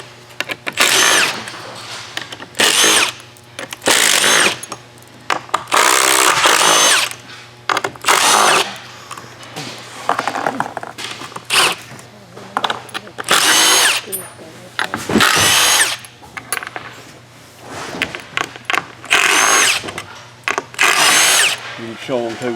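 A power drill unscrews T30 screws from the foot panels of a Stressless chair in loud, repeated bursts of whirring with short pauses between them, as a voice talks in the background.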